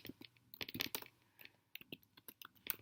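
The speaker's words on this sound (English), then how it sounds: "I'll just type the name" Faint, close keyboard typing with irregular bursts of sharp clicking keystrokes and short gaps between them.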